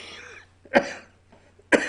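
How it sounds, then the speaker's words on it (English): Two sharp coughs about a second apart, close and fairly loud, with a softer throaty rasp trailing the first. "I still have a cough"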